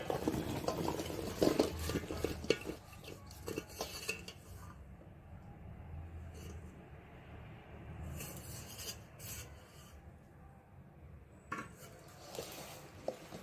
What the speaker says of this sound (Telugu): మామిడికాయ ముక్కలు వేసుకున్నాక బాగా కలుపుకోవాలి.